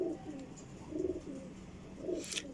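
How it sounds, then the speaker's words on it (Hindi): Soft, low Rampuri pigeon cooing in repeated phrases, about three bursts spaced roughly a second apart, with a faint chirp near the end. "ये एक और कबूतर आपको दिखा रहे हैं रामपुरी"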